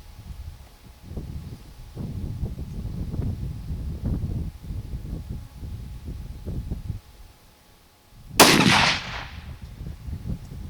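A short MAS 36 bolt-action rifle fires a single loud, sharp bang outdoors, preceded by wind buffeting and rustling handling noise, with a brief echoing decay after the shot.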